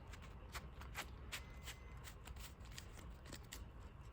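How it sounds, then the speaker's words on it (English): Sleeved playing cards are shuffled repeatedly, giving a run of soft, close riffling bursts at a fairly even rhythm against a quiet background. "super easy, nice glide or shuffle on these"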